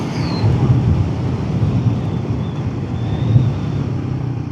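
A Royal Enfield Guerrilla 450 motorcycle is ridden, heard as a steady, loud low engine rumble mixed with rushing wind noise that holds fairly even from start to end.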